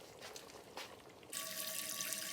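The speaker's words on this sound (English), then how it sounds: "I drain the water out from here in the using this shifter" Water drains from spinach held in a kitchen sieve while cooking vegetable soup, a faint, steady rush of running water that starts suddenly partway through, with a few soft splashes before it.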